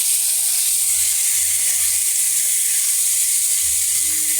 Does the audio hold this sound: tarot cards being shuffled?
no